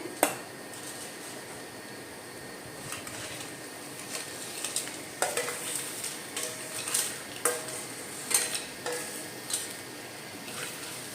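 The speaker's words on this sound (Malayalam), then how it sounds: "ഇതിലേക്ക് ഞാൻ ഞണ്ട് ഇട്ട് കൊടുക്കുവാണ്." Crab stirred and fried in masala in a pan for a crab roast, a soft sizzle beneath irregular scraping and clinking of a utensil against the pan that grows busier toward the end.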